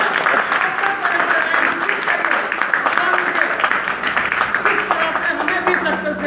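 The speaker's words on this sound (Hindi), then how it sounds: "एक बार अपने लिए जोरदार तालियां बजाएं" Applause from a large invited crowd at a health programme in a hotel hall in Bachhrawan, Raebareli: dense, steady clapping that fills the room for several seconds, with voices mixed underneath.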